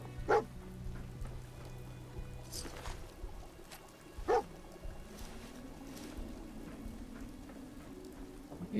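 A dog in the video game Fallout 4 gives a couple of short, distinct barks several seconds apart over a low ambient background.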